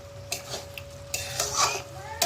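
Meat being stir-fried (kosha) in a kadai, covered and uncovered in turns, gives off a soft sizzle under clattering spoon scrapes and metal knocks against the pan.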